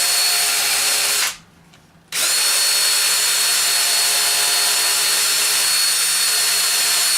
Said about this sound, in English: you don't want to drill through it